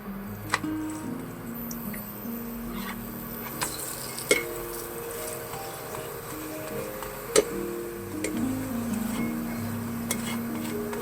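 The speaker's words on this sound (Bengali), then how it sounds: "তেল দিয়ে দিচ্ছি, সাদা তেল দিয়ে ভাজছি আমি" A green peas paratha shallow-fries in white oil on a pan with a faint, steady sizzle. Occasional sharp spatula taps and clicks break through, and quiet music plays in the background.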